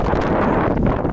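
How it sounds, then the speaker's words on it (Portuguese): Strong wind blowing by the sea on the Uruguayan coast, buffeting the microphone in a loud, continuous roar. "muito vento"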